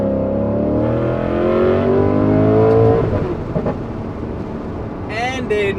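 An Alfa Romeo 8C Spider engine revs loudly, its pitch rising steadily, then drops off into a rough, lower roar as a voice speaks near the end.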